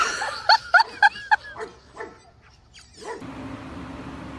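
A puppy gives a quick run of four sharp, high yips close by, followed by a few softer whimpering yelps, then the scene shifts to a quiet, hissing background.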